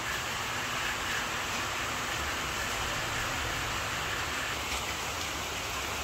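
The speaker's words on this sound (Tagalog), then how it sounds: "At ngayon po ay naulan." Steady rain falls continuously, a dense even hiss without breaks like drops pattering on a surface, heard alone with no talking.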